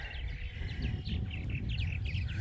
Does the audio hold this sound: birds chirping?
yes